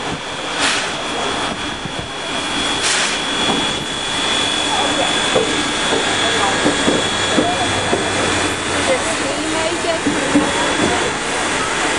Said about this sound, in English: See the train turning?